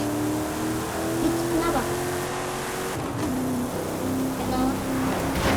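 An off-road car in a video game keeps up a steady engine drone, with the pitch wavering as it accelerates. Splashy noise and bumps run through it, and children's voices chatter over the motor.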